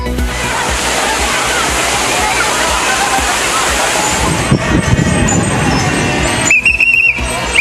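Thirparappu waterfall crowded with tourists gives a loud, constant rush of falling water close by, with a steady broadband roar that shifts near the end as splashing and crowd activity rise.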